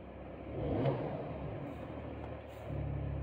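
A car engine with an accentuated exhaust revs up, swelling to a throaty peak and then holding a steady mid-pitched rumble before rising again slightly, heard fairly close with no talk.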